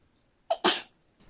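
A single loud, close sneeze with a short sharp intake just before the main burst, then quiet, from a person sitting at home stitching.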